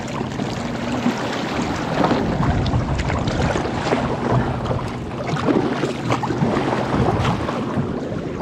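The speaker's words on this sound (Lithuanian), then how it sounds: "Kažkiek tai vėjuota, bet iš tikro tai banga tik maža" Gusting wind buffets the microphone aboard a boat on a lake, a loud, steady rush with small waves lapping near the hull and no talking.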